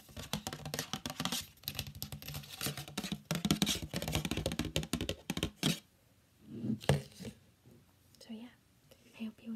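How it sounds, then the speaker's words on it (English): Fingernails scratching and tapping on a bar of Castle Bell soap set on a paper plate, close and crisp: dense rapid scratching for several seconds, then sparser tapping with quieter pauses. "I have a bar of soap, and I'm gonna like scratch on it and tap on it."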